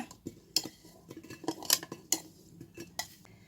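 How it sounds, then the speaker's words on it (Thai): Pineapple peels tumble into a glass jar in a series of irregular clinks and knocks, sharp close hits scattered over a few seconds with quieter rustling between them and no talking. "เดี๋ยวเราจะเท เปลือกสับปะรดลงไปก่อนเลยนะคะ"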